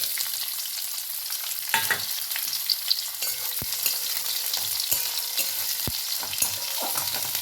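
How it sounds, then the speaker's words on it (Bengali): Onions sizzle steadily in hot oil, a constant crackling hiss broken by a few sharp knocks of a utensil against the pan. "পেঁয়াজগুলো একটু লাল লাল করে ভেজে নেব"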